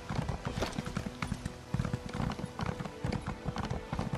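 Rhythmic clip-clop of horse hooves at a steady gallop in the video game The Elder Scrolls Online, close and continuous, with the beat running throughout.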